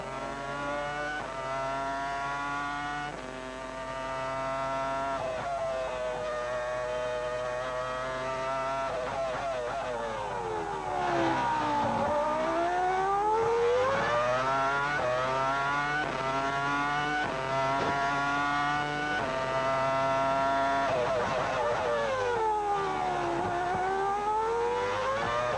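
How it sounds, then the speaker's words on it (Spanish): Fernando Alonso's Renault Formula 1 car at the French Grand Prix, onboard, engine screaming continuously as it climbs and drops through gears, loud and steady for the whole stretch. "Disfrutando con el sonido del motor Renault, el auto de Fernando Alonso."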